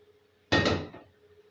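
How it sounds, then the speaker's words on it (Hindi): Yakhni stock poured from a vessel into a cooking pot for a Bakra Eid dish, giving a single short, close splash-and-clatter burst of about half a second that quickly fades. "तो अब हम इसमें डालेंगे यखनी"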